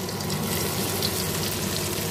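Cabbage, onion and chili fritters sizzle steadily in hot oil, a close, dense hiss that holds even for the whole stretch.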